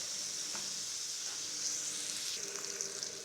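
Onion, green chilli and tomato cooking down in a pan, a quiet steady sizzle with a couple of soft stirring touches, close but low in level and without talk.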